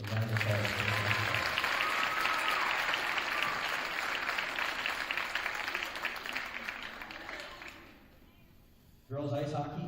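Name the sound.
applause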